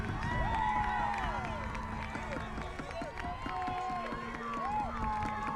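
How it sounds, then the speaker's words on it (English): A high school girls' soccer crowd cheers and claps after a goal at a state semifinal, a sustained roar of voices with whistles and shouts layered over it, fairly distant and continuous. "Crowd erupting, as you would expect down here."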